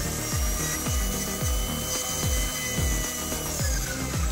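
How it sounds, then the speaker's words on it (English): A handheld rotary tool fitted with a cylinder burr grinds and shapes a small heart-shaped birdhouse pendant, a sustained whirring buzz broken by rhythmic strokes roughly every half second, close and fairly loud with no voices. "I quickly adopt a cylinder burr, as it allows me to get into all of the tighter,"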